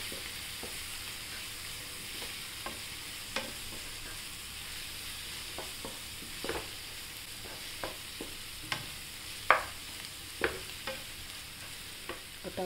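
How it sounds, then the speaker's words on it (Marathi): Green chili, garlic and ginger paste with turmeric is sautéed in a pan, giving a faint steady sizzle punctuated by irregular clinks and scrapes of a stirring spoon, with no talk. "आता आपण याच्यात हळद टाकूया, परतून घेऊया"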